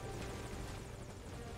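Helicopter in the Metal Gear Solid: Ground Zeroes game, a steady, quiet rotor drone with continuous broadband thrum and no talk over it.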